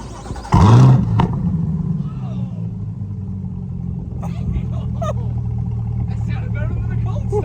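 C8 Corvette fitted with an AWE Track Edition exhaust, started warm: a loud, sudden startup flare lasting about half a second falls into a deep, steady burbling idle, with people talking faintly nearby.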